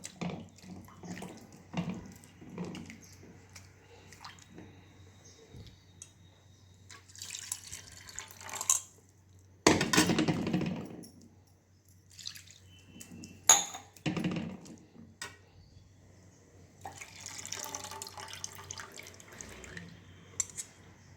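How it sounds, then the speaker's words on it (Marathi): Water runs from a tap in intermittent bursts, with splashing and rinsing sounds as freshly churned butter is washed in a vessel, between quieter pauses. "याला आपण आता पाण्याने धुवून घेऊ, म्हणजे आंबटपणा ह्याचा निघून जातो"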